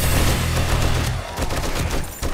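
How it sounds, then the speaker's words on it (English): An M60 machine gun fires in the video game Demolition Hordes: a loud, dense, rapid burst of automatic fire that stops briefly and then resumes. "I fucking love the M60!"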